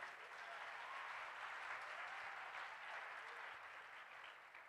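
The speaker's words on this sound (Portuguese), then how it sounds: "aplauda Jesus por isso" A church congregation applauds in a continuous, even wash of clapping that sounds faint and distant, with no voices rising above it.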